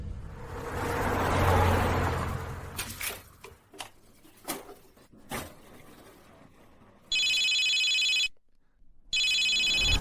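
A telephone ringing, two loud electronic ring bursts near the end separated by a short silence, after a stretch of rustling, a passing whoosh and a few sharp knocks.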